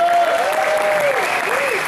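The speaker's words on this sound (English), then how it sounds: "a nice round of applause for Dick Shurman" An audience on a blues cruise claps in a dense burst of applause for a guest, steady and fairly loud for a couple of seconds, with a thin tone and a voice faintly over it.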